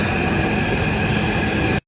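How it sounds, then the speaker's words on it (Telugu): A metro train pulls into a station with a loud, steady rumble of wheels and rail noise, close by and unbroken until it cuts off abruptly. "ఇప్పుడు మెట్రో రాబోతుంది"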